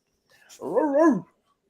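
A dog gives one drawn-out, wavering bark-whine, close and fairly loud, lasting under a second before silence.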